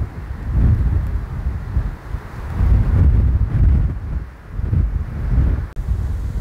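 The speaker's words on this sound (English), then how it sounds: "this is how windy it gets in the afternoon, just like blowing a gale" Strong afternoon gale on the Western Australian coast buffets the microphone in heavy, roaring gusts that surge and ease continuously, with no voices.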